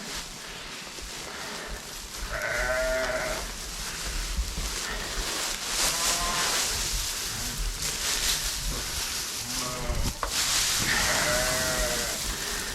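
Sheep bleat inside a barn, several wavering calls from different animals spaced across the stretch over a steady background of rustling and barn noise.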